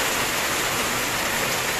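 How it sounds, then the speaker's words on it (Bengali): Heavy rain pours down in a dense, steady roar that stays loud and unbroken throughout, with no voices and no distinct thunderclap. "খুব চমৎকার বৃষ্টি হচ্ছে, আর মাঝে মধ্যে এমন বিদ্যুৎ চমকাচ্ছে"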